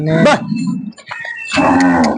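Kankrej cows at a cow shelter and breeding centre beside a Mahadev temple moo twice, loud and close. A short low moo comes first, then a longer, fuller one after a brief pause.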